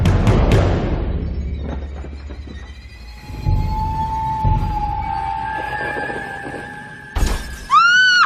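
A mirror slips from a woman's hands and shatters loudly in an animated horror tale set at Bhangarh fort, the crash followed by lingering ringing, a sustained eerie tone and a final burst of breaking glass.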